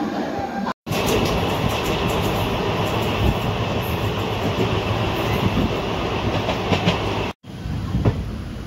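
A passenger train rumbles steadily along the tracks near Ajmer in the rain, with a continuous roar and faint rhythmic clatter, briefly cutting out twice.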